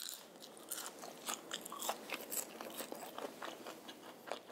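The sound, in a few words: crunchy eating of french fries with chicken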